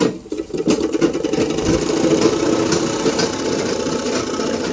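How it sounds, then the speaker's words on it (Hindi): An overlock sewing machine stitches fabric in a steady, fast mechanical whir that runs loud and close for the whole stretch, with no talk over it. "ओवरलॉक मारते हुए मेरा भाई।"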